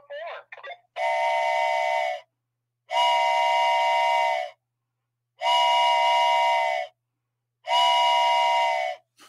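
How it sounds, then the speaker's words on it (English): A train whistle blows four long, steady, sustained blasts with even pauses between them, loud and close, after a brief voice at the start. "I'm going to blow the train whistle."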